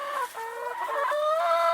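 Chickens clucking inside a backyard chicken coop, a run of close, overlapping tonal clucks and short calls over a few seconds, no voices.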